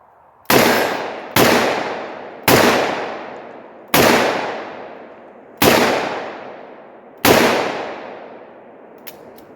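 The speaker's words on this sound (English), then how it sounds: "actually MadTech soft points 44 Magnum. Let's see if I can shoot this fast." Six loud, close gunshots from a .44 Magnum revolver firing soft-point rounds ring out in quick succession, each sharp blast trailing off in a short decaying echo outdoors.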